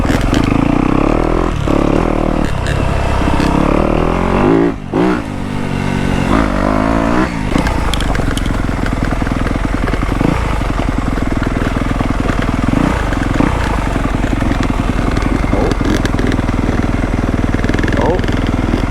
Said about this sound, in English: I love 2-strokes. Especially these woods bikes. They lug so good.